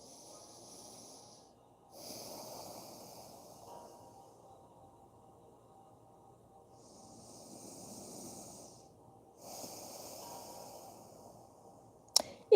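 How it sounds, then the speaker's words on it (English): Slow nasal breathing during a yoga class, soft airy inhales and exhales in a few long broad swells spread across the stretch, close and fairly quiet, with a sharp click right at the end. "Breathing through your nose."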